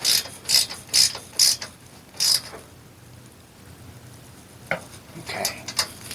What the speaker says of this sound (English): I'm going to snug up the bolts.